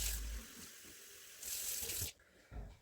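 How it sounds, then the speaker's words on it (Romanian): Cold water runs from a tap into a container, a steady hiss of flow that breaks off and starts again in short bursts, fairly quiet with no voices. "Până la prima linie, după cum vedeți, se adaugă apă rece."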